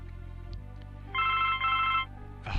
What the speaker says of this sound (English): Oh, let's answer the phone.